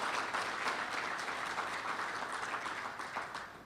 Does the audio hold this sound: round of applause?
yes